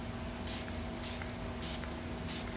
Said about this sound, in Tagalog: Okay, magsaspray tayo first.